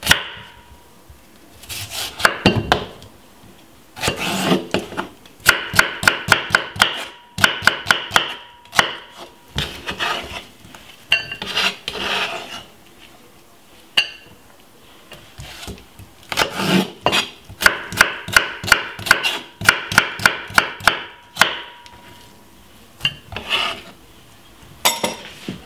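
A knife chops cucumber for a salad on a cutting board in rapid bursts of crisp taps, broken by short pauses and scraping.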